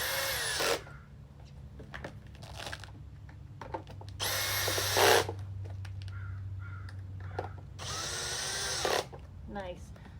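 A power drill tightens small Grizzla spacers on a Dirt Master in three loud whirring bursts, each about a second long, separated by pauses, with a low steady hum and some talk underneath.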